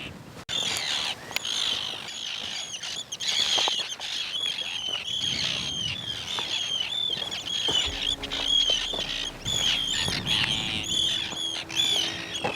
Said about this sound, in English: the birds seem to be very angry